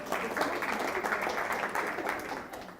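An audience at a school strengths workshop claps in steady, dense applause that lasts the whole few seconds, close and fairly loud.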